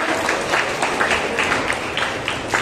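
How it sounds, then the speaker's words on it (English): Audience clapping for a prize winner at a New Year prayer fellowship meeting, a steady, dense patter of many hands that holds evenly throughout without pause. "Let's clap for him."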